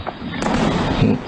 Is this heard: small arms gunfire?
yes